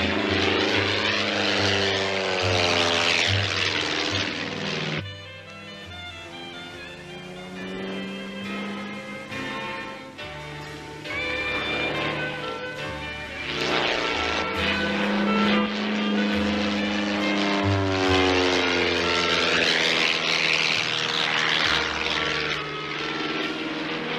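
A propeller airplane flies past, its engine drone rising and falling in pitch over about twenty seconds, loud and continuous with no voices over it.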